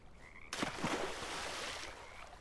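A frog croaks in the fantasy game Bramble: The Mountain King: a few quick, throaty croaks that run into a sustained raspy call over faint ambient tones, close and fairly loud, with no talking.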